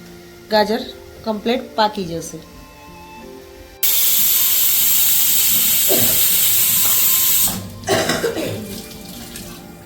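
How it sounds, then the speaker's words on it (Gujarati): A pressure cooker cooking carrots vents steam in a loud, steady hiss lasting several seconds, with a voice talking before and after. "બધી હવા નીકળી ગઈ છે કુકર ઠંડુ થઈ ગયું"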